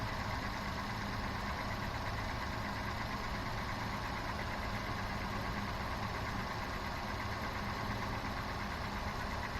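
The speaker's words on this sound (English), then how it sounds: "Seems like it's running fine. All cylinders are going." A 1999 Toyota Land Cruiser 100 series engine idles after an ignition coil replacement, running smoothly on all cylinders with a steady, even hum and no voices over it.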